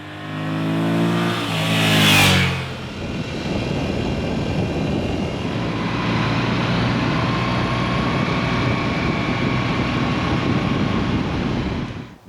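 A 2021 Moto Guzzi V7 motorcycle engine runs close by, a sharp rising rev sweep early on settling into a steady, loud idle-like drone that holds to the end.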